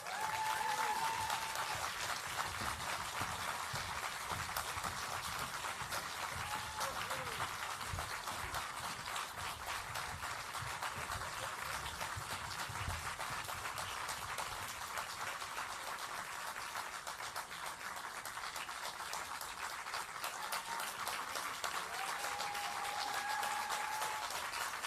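Sustained audience applause fills a hall as the 2023 Futureverse students walk onto the stage at a national finals event, a dense, steady wash of clapping from a large crowd that holds even throughout.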